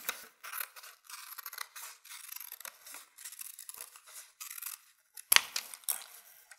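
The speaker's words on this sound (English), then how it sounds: "Now I'm going to cut out on the line." Scissors snip through folded paper to cut out a heart shape, a run of short crisp cuts with a papery rustle, ending in a sharper snap near the end.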